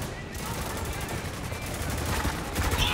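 Sustained automatic gunfire in the shooter Spec Ops: The Line, a dense rattling barrage of overlapping shots at mid distance, growing slightly louder toward the end.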